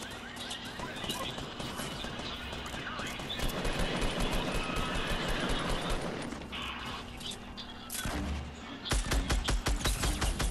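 Rapid bursts of automatic gunfire in the video game Fortnite during a squads match, loud and close, with repeated sharp shots and crashes and a few brief pauses, and players talking over the shooting.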